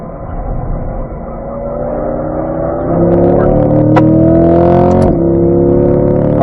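A C8 Corvette engine on a race track climbs steadily in pitch under hard acceleration, loud and close, with a brief dip around a gearshift before rising again.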